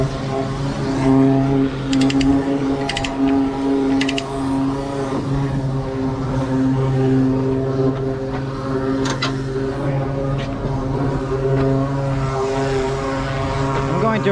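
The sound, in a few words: heavy trailer being raised for a drill rig haul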